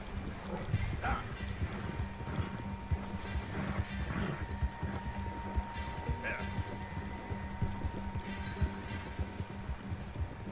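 Steady clip-clop of horse hooves with an occasional whinny in Red Dead Redemption 2, set against game ambience and a constant low hum, with someone talking over it.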